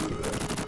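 Rapid video-game gunfire fired while rolling, a quick rattling burst of close shots lasting under a second.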